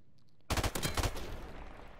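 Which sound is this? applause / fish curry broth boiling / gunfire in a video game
gunfire in a video game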